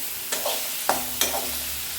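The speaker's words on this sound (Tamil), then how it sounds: "பாருங்க இப்போ வதக்கி எடுத்துக்கிட்டோம்" Thoothuvalai leaves being sautéed in a pan: three distinct scraping stirs, evenly spaced, over a soft, steady sizzle, close and moderately loud with no voices.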